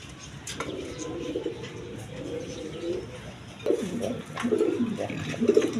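A pair of fancy satin pigeons coos in soft, rolling bursts, growing louder and closer in the second half, with no talk.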